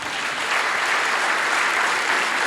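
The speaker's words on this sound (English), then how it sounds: "Let's give him a big round of applause." Steady, dense clapping from a startup pitch event audience fills the space, loud and continuous without a break.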